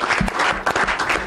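Audience applause for the Vice Chancellor of the Federal University Lokoja at a live show, a dense, steady burst of clapping filling the whole moment.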